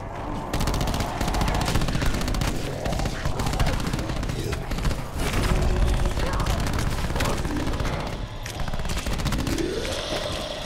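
Dense, continuous gunfire in Call of Duty Black Ops 4, heavy rapid shots and booms stacked over one another for the whole stretch, loud and close, with game voices mixed underneath.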